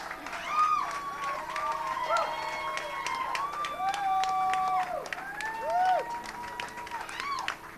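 Audience applause at a folk music night in a chapter house, with clapping running through the whole stretch beneath talk and clear tonal sounds.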